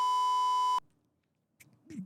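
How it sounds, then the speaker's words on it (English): A single sustained electronic beep tone, steady and fairly loud, cuts off abruptly after under a second, followed by near silence and then faint scattered noises. "What is this, Morse code now?"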